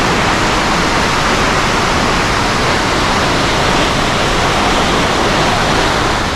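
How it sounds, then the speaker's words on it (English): A powerful waterfall in Nepal roars loud and close, a dense, steady wash of rushing water that stays constant from start to finish, with no voices. "I think even in normal season, it still is a powerful waterfall"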